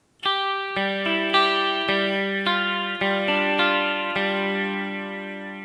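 An electric guitar through an effects unit plays the picking pattern from a song: bright ringing notes picked in a steady rhythm, each attack sustaining and overlapping, clear and alone without voices.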